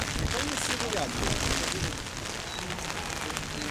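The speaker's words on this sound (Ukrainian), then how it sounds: "Продовжимо ми мокнути під дощем." Steady rain hisses down at an outdoor fair, a dense, continuous patter with faint background activity.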